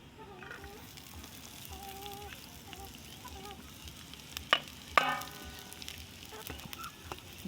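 Onions fry in oil in a pan, a soft background sizzle with a couple of sharp utensil knocks midway and faint stirring throughout.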